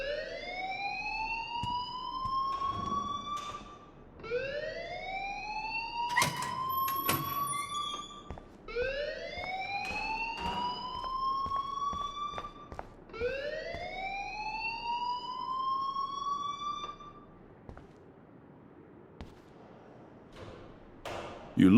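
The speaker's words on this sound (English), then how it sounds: "please turn off that alarm since that's your job" Repeated rising electronic sweeps of a school fire alarm in the video game Life is Strange, wailing in steady cycles at moderate loudness and then stopping near the end, with faint background noise and no talk.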